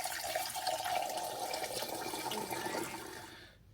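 Water sloshes and gurgles inside a bag filled with water, a close wet swishing that carries steadily and then fades out at the end, with no voices.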